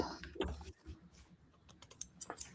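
Paper edges are trimmed for an envelope collage, producing faint, quick snipping clicks in an irregular patter, close and quiet.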